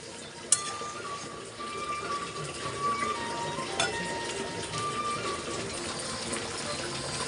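A sour fish curry bubbles in a kadai as pieces of fish go in, giving a steady close hiss and simmer with one sharp clatter near the start and no talking.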